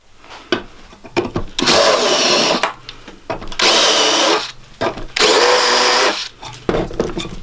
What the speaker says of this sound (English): And that's our pinholes drilled.